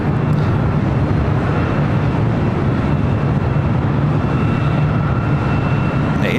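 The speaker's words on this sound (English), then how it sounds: "Asiana A380 Super now crossing over to 4 left" An Asiana Airbus A380 taxis at LAX, its engines producing a steady, dense roar, loud and unbroken, mixed with broad airport rumble.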